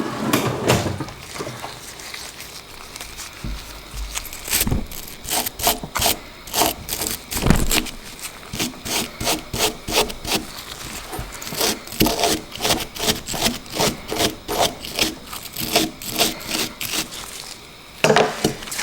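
A wire brush scrubs the metal parts of a free push mower in quick, rhythmic bristly strokes, with some short clunks and pauses and a steady run of close, fast rasping.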